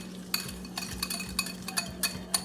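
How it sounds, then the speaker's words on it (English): Light brown sugar being stirred into melted butter in a bowl for a pineapple upside-down cake, a spoon clinking and scraping against the bowl in repeated strokes, close and fairly quiet over a low steady hum. "go ahead and place your light brown sugar in with your melted butter and"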